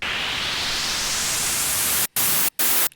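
A hissing white-noise riser in a tearout dubstep production brightens steadily, then chops into a few abrupt gated bursts with silent gaps at the end.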